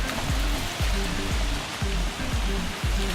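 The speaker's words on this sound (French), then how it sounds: "Ça y est, il pleut." Steady rain falling outdoors in London, a dense continuous hiss of drops with a low, uneven patter running through it, heard alone without any voices.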